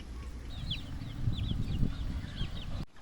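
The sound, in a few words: chicks in a breeding range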